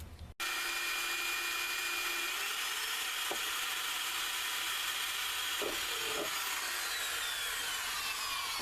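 Screws are driven in to secure a fuel pump access panel on a 1994-97 Honda Accord Wagon, a steady close hissing, whirring tool noise running almost continuously, broken by a few short clicks and knocks.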